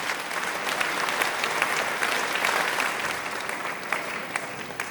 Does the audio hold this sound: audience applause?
yes